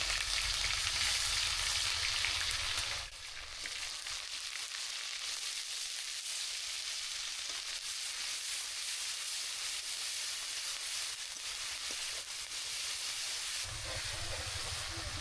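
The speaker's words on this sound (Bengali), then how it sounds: "আমার মশলাটা ভাজা হয়ে গেছে" Spice paste of ground onion, ginger, garlic, chili, cumin and garam masala fries in a pan for chicken curry, giving a steady, loud sizzling hiss that eases slightly after a few seconds, with no talking.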